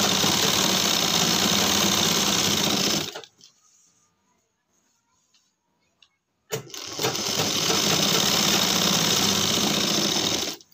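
A sewing machine stitching a pant waistband runs in a fast, steady whirring clatter for about three seconds, stops into near silence for several seconds, then starts again and runs steadily to the end.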